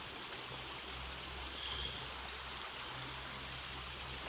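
A stream flows in the open where gold is being panned, a steady, faint rushing burble with constant texture and no talk.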